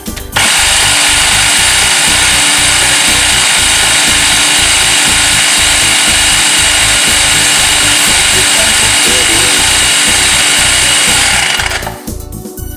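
Electric chopper grinding raw garlic cloves, a loud continuous motor whir with a pulsing, churning rhythm lasting about twelve seconds before cutting off abruptly.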